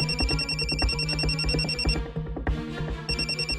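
A phone rings with a repeating electronic ringtone, a steady pulsing pattern of bright tones over a thumping backing beat that briefly drops out before resuming.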